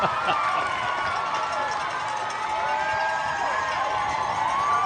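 Crowd lining the road at Wellesley, several rows deep, cheers and screams as Boston Marathon runners pass, a dense continuous roar with shrill whoops, steady and fairly loud throughout.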